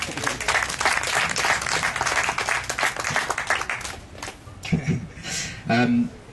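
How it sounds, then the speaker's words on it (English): A crowd breaks into dense, loud clapping during a personal speech, a steady burst lasting several seconds before it thins out and voices take over. "someone's clapping"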